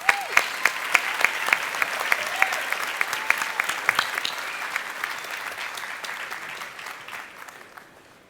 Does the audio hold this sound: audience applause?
yes